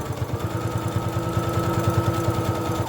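A sewing machine stitching a straight line on a fabric keychain made from scraps, a rapid even mechanical whir-tapping of the needle at close range.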